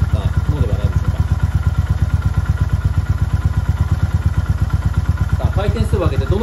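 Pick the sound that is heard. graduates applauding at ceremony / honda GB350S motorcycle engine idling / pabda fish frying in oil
honda GB350S motorcycle engine idling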